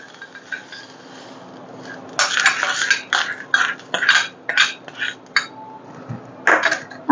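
A spoon clinks and scrapes against a metal pot as a tempering of mustard seeds, chilli and curry leaves in oil is stirred into buttermilk, a series of sharp metallic taps in an irregular rhythm, close and clear.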